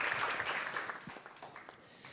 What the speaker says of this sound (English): let's give Jonathan an awesome round of applause for the very technical speech.